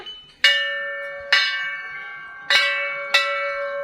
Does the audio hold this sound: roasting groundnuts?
no